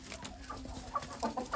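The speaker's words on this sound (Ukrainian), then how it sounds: "Ой, кури позбігалися." Hens cluck in short scattered bursts nearby, with a few sharper clucks toward the end over a low background hum.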